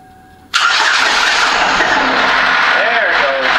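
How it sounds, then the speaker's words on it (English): A 2012 Buick Ecotec engine cranks and catches after a quiet moment, then runs loud and steady with a broad mechanical clatter from the valve train as the lifters pump up with oil. "That rattling with the valve train, all the lifters and stuff pumping up with oil."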